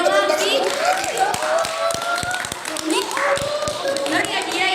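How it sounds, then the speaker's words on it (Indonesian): Children in a classroom quiz break into a brief round of clapping, sharp uneven claps mixed with chatter and voices throughout. "Beri tepuk tangan."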